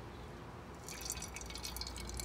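Water is squirted from a syringe into a cup, a short soft spattering trickle that starts partway in, faint and close with no talk.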